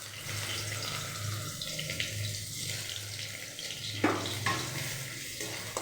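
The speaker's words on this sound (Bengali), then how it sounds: "তেল গরম হয়ে গেছে, এখন দিয়ে দিলাম তাতে পেঁয়াজ ফোড়ন।" Onions dropped into hot oil in a wok, a continuous close sizzle and bubbling hiss with occasional stirring clatters and a sharp splash of frying partway through, no voices.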